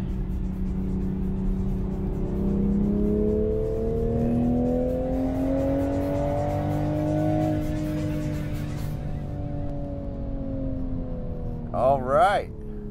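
A 2024 Toyota Supra with a six-speed manual driving on a race track, its engine note rising and falling steadily close by throughout, with a brief sharper burst near the end.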